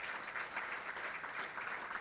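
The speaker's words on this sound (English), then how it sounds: "So please give them a big round of applause." Steady applause from a crowd of diners at an awards dinner, a dense, even patter of clapping that holds throughout without voices standing out.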